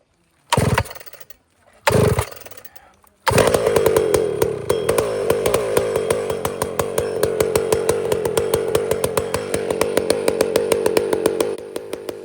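Husqvarna 562XP Mark II chainsaw: two short pull-start attempts, then it catches and runs with a loud, continuous two-stroke buzz that rises and falls with repeated throttle blips.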